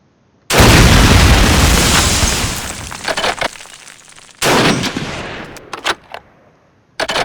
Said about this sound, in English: That's one powerful rifle.